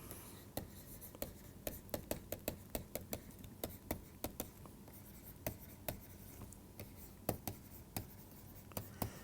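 Chalk or marker writing an equation on a lecture-hall board, a steady series of short scratchy strokes and taps tapping out a quick irregular rhythm, close and alone with no talk, over a low room hum.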